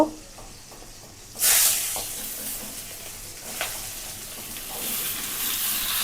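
Hilsa fish sizzles and hisses steadily in hot oil in a home kitchen, with occasional stirring and clinks, a sharp burst of frying noise partway through.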